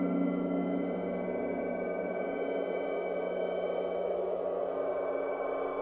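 A sustained, ringing metallic drone from an iOS gong amplifier app used as a reverb holds steady throughout, with layered humming overtones swelling with a deep reverberant resonance.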